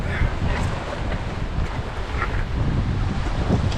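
A strong headwind buffets the microphone on sea fishing rocks at Stout Point in South Wales, giving a constant, heavy roar of wind noise with a faint wash of surf underneath and no voices.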